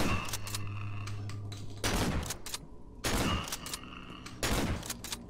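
Several loud, sharp gunshots in the horror game Cry of Fear, spaced a second or so apart with short echoing tails, close and prominent with no talking.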